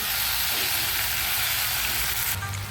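Chilli fish sauce thickened with cornflour, stirred over a high flame: a loud, unbroken sizzle, close up, with a low rumble underneath.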